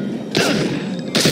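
Gunfire in the Project IGI video game at a trainyard base, heard as two loud bursts of shots close up, with a dull thumping rumble between them and no talk.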